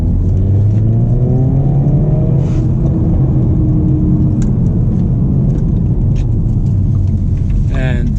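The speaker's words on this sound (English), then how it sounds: "And what's cool about this car, you got the little pops and bangs and everything." A Hyundai Veloster N with a dual-clutch transmission drives along, its engine and exhaust droning loudly and steadily with rising rev sweeps and a few sharp pops and crackles scattered through.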